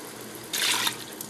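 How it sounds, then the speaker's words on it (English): Milk, two cups, poured into a soup pot for cheesy mac and bacon soup, a brief liquid splash and trickle lasting under half a second, close and moderately loud over a quiet room. "We're going to go ahead and add the milk right now, which we're adding 2 cups of milk"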